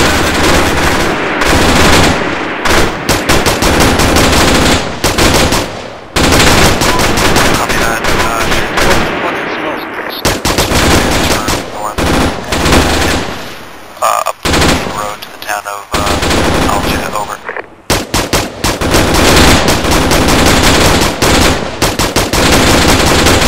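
Loud, sustained automatic fire from an Arma 3 game battle, with long bursts of rapid shots, brief pauses between volleys and a few voices talking beneath the din.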